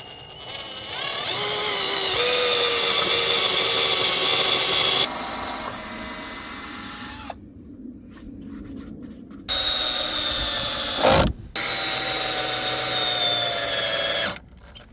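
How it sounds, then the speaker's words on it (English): A power drill pre-drills and drives screws into wooden roof framing on a school bus conversion, in several loud, close bursts of whining motor separated by short pauses and quieter handling noise. "we're just gonna go ahead, pre-drill, and then screw this baby into place"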